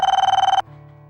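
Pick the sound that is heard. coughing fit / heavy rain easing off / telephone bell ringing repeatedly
telephone bell ringing repeatedly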